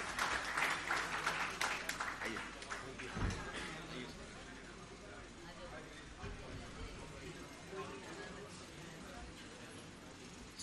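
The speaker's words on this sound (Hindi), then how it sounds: "मैं चाहूंगा तालियां बजाकर स्वागत कीजिएगा" An audience claps to welcome a guest onto the stage, and the clapping is loudest at the start and then thins into a softer, scattered patter. Faint background murmur runs underneath.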